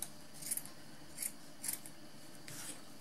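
Scissors cutting a small paper triangle, a few crisp snipping crunches at uneven intervals, close and fairly quiet against a hushed room.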